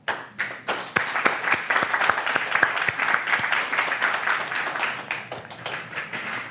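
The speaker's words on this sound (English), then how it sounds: "And I think they deserve a round of applause." A room full of people gives staff a round of steady, dense applause that lasts about six seconds. Sharper single claps stand out within the clapping.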